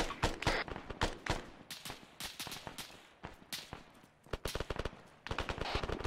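Machine gun fire in Arma 3 during a military simulation firefight, sharp bursts of rapid shots in clusters with short pauses between them, some close and loud, others more distant.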